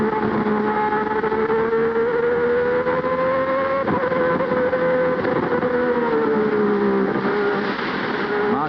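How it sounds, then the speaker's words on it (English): Formula One race car at the 1990 Portuguese Grand Prix at Estoril, its high-revving engine a loud, sustained whine that shifts pitch as it passes, with a brief scraping knock as the car touches the track. "You can hear Derek's car touching the track."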